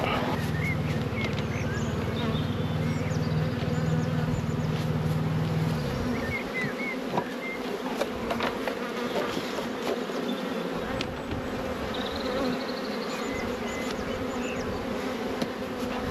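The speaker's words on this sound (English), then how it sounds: "They are very, very happy bees." Honey bees buzz at a beehive during a May beekeeping inspection, a dense, steady close-up hum that carries on throughout without any talking.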